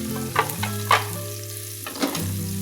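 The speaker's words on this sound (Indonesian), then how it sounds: "Kemudian kita tumis hingga bawang dan juga bakso terlihat matang." Meatball slices stir-fry with garlic and onion in a pan, a steady close sizzle with a few scraping strokes of the spatula, no voices.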